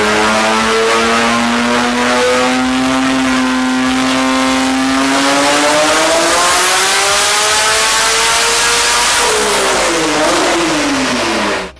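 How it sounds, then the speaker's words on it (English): A naturally aspirated Nissan RB26 engine on a dyno revs loud and close, climbing steadily in pitch through a long sustained pull before the throttle lifts and it drops away at the end. "Unless you search very hard, you're not going to find too much RB26 NA sounds."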